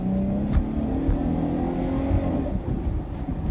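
A V6 Dodge Challenger muscle car engine rumbles and revs nearby while accelerating, a steady low drone with slight rises in pitch, heard alone without talk.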